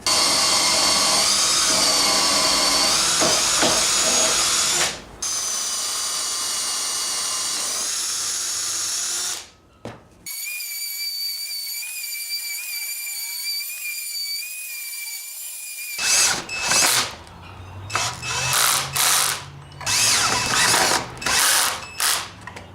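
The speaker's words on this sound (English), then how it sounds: "And now I'm just putting in pocket holes." A power drill whines loudly in long high-pitched runs while drilling pocket holes in wood for a dining table, stopping and restarting, then in quick repeated bursts near the end.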